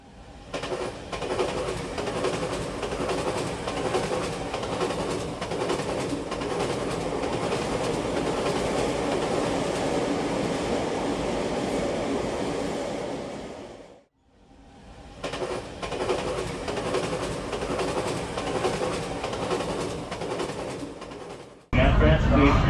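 A Disneyland Railroad train rumbles steadily along the rails with rhythmic clacking, briefly drops out, then resumes, ending in a sudden louder burst; a voice talks over it.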